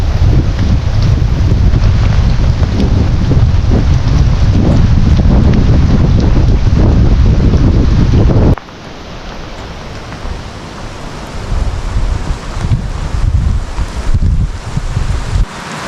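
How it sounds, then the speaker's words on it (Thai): A storm sweeps through a forest with wind roaring loudly and steady rain hissing, then the gusts drop sharply about halfway and leave a quieter, softer wash of rain and wind. "ฝนก็ตกปล่อยๆนะน่าจะเป็นพายุนะที่เข้านะฮะ"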